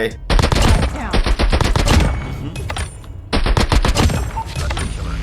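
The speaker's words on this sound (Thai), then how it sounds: "ตัวปืนเหมือนจะยิงช้านะ เออ ไม่ได้เร็วมากมันเป็น SMG จริงไหมเนี่ย" SMG gunfire in the mobile video game Call of Duty Mobile, several loud rapid bursts of automatic shots separated by short pauses, sharp and close.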